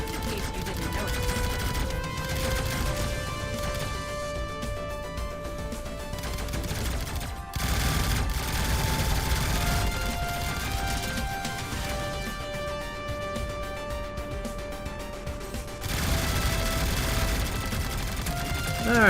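A missile barrage fired from a spaceship in the space combat game Starpoint Gemini 3, a sustained loud roar of launches and impacts lasting nearly twenty seconds, with steady tonal hums and a few sharp surges partway through.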